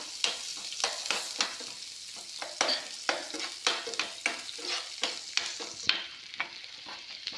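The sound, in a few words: onion being sautéed in a pan until browned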